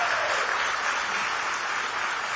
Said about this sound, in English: I applaud Teresa, and I know we all do.